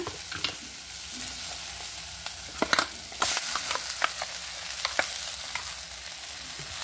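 Tomato and masala frying in a pan for a Tamil Nadu style mixed vegetable curry, a steady close sizzle broken by scattered sharp spatula stirs and scrapes.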